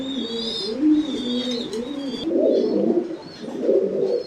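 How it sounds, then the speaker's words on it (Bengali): Pigeons at a Bengali pigeon farm coo in a steady series of soft, low, rolling calls, close and fairly loud, with faint higher chirps from other birds behind them and no talking. "আমরা এখানে একটি সিঙ্গেল মুখী কবুতর দেখতে পাচ্ছি।"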